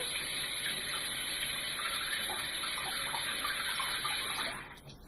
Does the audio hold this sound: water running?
yes